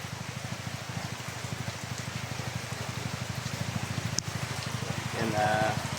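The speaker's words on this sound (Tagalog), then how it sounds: "sana titigil na itong ulan." Heavy rain falls during flooding in Mindanao as a steady, dense patter under a rhythmic low throb, with a brief sharp knock partway through and a faint voice near the end.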